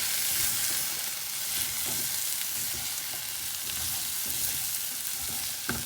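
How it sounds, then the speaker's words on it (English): Cauliflower and potato curry with spices is stirred in a pan, a dense continuous sizzle and hiss with soft scraping and shuffling of vegetables underneath, steady and close throughout. "I'm going to add the spices now so that we get a good, make sure they mix into the vegetables properly. And give it a quick stir again."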